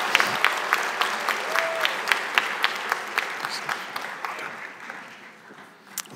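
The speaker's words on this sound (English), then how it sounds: "Another round of applause for our second valedictorian this evening" Audience applause at a fall graduation ceremony for a valedictorian, dense clapping with distinct sharp claps, gradually thinning toward the end.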